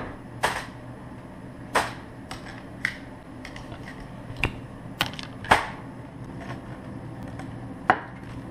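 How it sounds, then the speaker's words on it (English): A knife cutting a cube of butter on a board, a series of sharp, irregular close chops and taps with quiet pauses between, no talking. "but we're going to cut up the butter."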